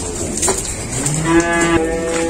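Cattle at a dealer's stock pen holding Brangus and Limousin animals give a clear, drawn-out moo near the middle, over a steady background of farmyard noise.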